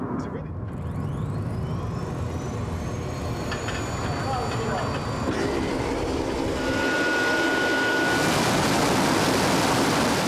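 A military jet engine runs up on the ground at a Kandahar air base while the aircraft is chained down against 22,000 pounds of thrust, a loud broad roar with rising whine that swells to full throttle, with speech over it.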